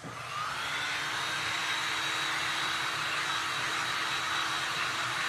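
A heat gun or dryer blows over glass and resin art while the red stripes of a patriotic tie piece are worked, giving a steady, loud, continuous rushing whoosh with a faint high whine that holds for the full duration.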